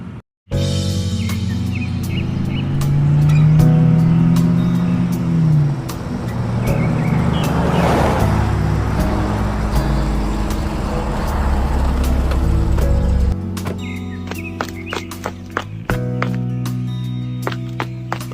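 A car drives in the Sakura School Simulator game, its steady engine hum running throughout under a layered bed of game music.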